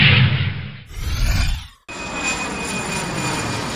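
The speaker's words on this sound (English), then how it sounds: "Fighter jet." A fighter jet flies past with a loud, roaring engine that sweeps through, cuts off abruptly, then gives way to a steady sustained jet roar, with no voices.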